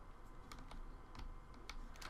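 A computer keyboard clicks in sparse, irregular keystrokes, close and moderately quiet over a low background hum, with no one talking.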